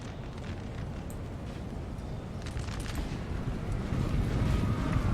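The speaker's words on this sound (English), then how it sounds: "Just freely firing into any of the French down here." Musket volleys fired at French troops in a Napoleonic battle in Napoleon Total War, heard as a dense rumble of crackling gunfire and booms that swells louder toward the end.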